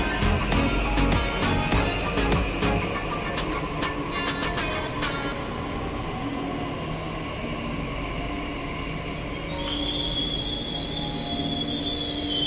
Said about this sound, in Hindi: तो अपनी मेट्रो आ चुकी है, अब इसमें हम कश्मीर गेट जाएंगे।